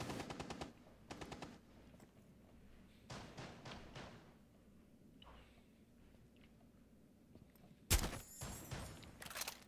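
Several rapid bursts of gunfire in the video game Rainbow Six, with game-like effects, separated by quieter gaps, ending in a louder, denser volley.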